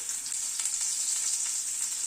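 Small peeled boiled potatoes frying in a pan give a steady, close hiss of sizzling oil that stays even throughout, with no voices.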